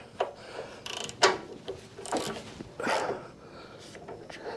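Bolts being tightened on a Frick sawmill, a few short metallic clicks and ratcheting scrapes spaced irregularly, close and fairly quiet against a faint background.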